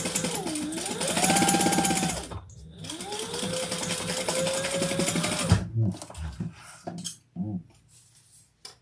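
Home sewing machine top-stitching the sides of a fabric training treat bag, a steady close whirring hum in two long runs that stop and start, followed by a few short bursts and clicks.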